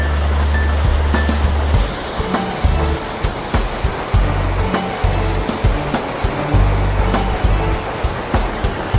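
Vipavadee waterfall in Surat Thani, Thailand, roars as a loud, continuous rush of water with deep rumbling gusts, heard up close with no talking.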